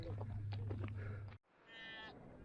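Sheep on an open hillside along the Pennine Way near Churn Milk Hole bleat faintly and far off, a single drawn-out call rising after a low rumble.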